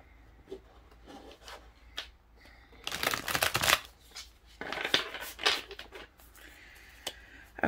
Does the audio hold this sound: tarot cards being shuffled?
yes